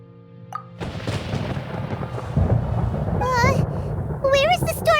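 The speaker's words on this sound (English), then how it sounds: "Paimon hears thunder!" Thunder rumbles through a stormy scene in the video game Genshin Impact, a broad low roll building steadily over several seconds while a character's high chirping voice talks over it.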